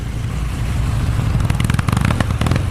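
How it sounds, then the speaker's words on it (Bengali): A motorbike engine rumbles close by with a low, steady drone that turns uneven and sputtering toward the end, with no voices. "হঠাৎ বাইকটার গতি কমতে কমতে একেবারে থেমে গেল।"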